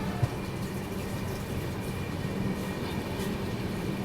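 Gondia–Kolhapur Maharashtra Express running just after leaving Wardha, a steady rumble of the moving coaches with a faint rhythmic rattle, heard from on board, continuous and unbroken with no voices.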